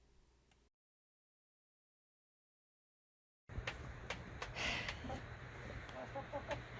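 Chickens in a snowy homestead barnyard during single-digit cold cluck and squawk in scattered bursts over steady outdoor noise, after a brief quiet gap.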